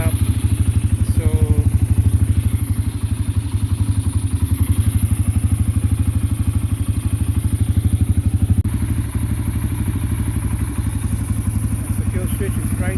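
A 1990 Yamaha XT 350 dual-carburetor motorcycle engine runs close by with a loud, even, rapid thumping idle throughout, and a person talks over it now and then.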